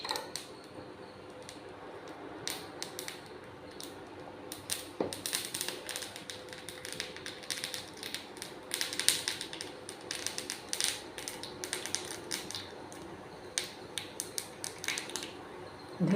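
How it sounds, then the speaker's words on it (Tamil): Mustard seeds and urad dal splutter in hot oil for a chutney tempering, giving dense, irregular crackles and sharp pops close by that keep going steadily the whole time. "எண்ணெய் காஞ்சிச்சு, கடுகு உளுத்தம் பருப்பு போட்டுக்கலாம்."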